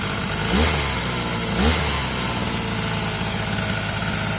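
Petrol brush cutter with a newly replaced carburetor running at an adjusted steady idle, a loud close buzzing drone with two brief rises in revs early on, no voices.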